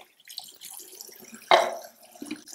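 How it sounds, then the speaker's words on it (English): Water splashes and trickles in short bursts, with a louder sloshing surge midway, as developed 35mm black and white film is rinsed in water in a basin. "I'm just gonna wash the film in water."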